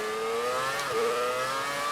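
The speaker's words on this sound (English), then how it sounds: "V10 horsepower coming on song" In F1 2018, a Brawn F1 car's V10 engine revs high and loud with a smooth, steady whine, and its pitch dips briefly at a gearshift before climbing again.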